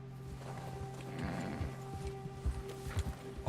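Horse hooves clip-clopping on a trail in the Red Dead Redemption video game: a steady, moderately quiet walking rhythm of hoofbeats over a low tonal hum from the game's music or ambience.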